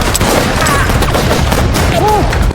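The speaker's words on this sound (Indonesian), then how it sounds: "Baku tembak pun tak terhindarkan." A film gunfight fills the scene with loud, dense bursts of gunshots over a roaring, continuous background of action-movie sound, with no pause between shots.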